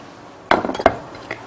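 Plates set down while serving small, cute steamed cakes in a Korean home kitchen: a short cluster of clinks and knocks of dishware, a sharper clink after, then one faint tap, with no talking.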